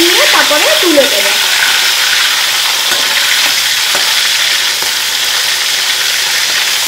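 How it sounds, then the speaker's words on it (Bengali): Hilsa fish head frying and being turned in a pan, a loud continuous sizzle with occasional scrapes and knocks of a spatula, heard close, a brief voice-like sound near the start. "মাথাটাকে আমি সামান্য অল্প করে একটু নাড়িয়ে চাড়িয়ে ভেজে নিয়ে তারপরে তুলে দেব।"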